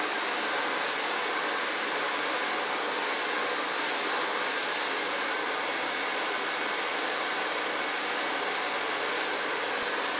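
Hair dryer blowing on hair during salon styling, a loud, unbroken broadband whoosh held evenly throughout, close by and with no talking.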